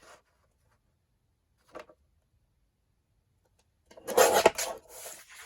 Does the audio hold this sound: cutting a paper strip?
yes